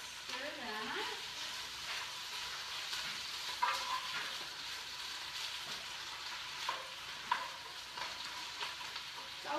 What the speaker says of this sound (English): So, I'm going to stir that.